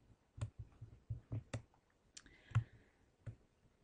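A computer mouse clicks several times while controls are dragged onto a form in Visual Studio 2010, with sharp, close, sparse clicks at irregular intervals over a quiet background.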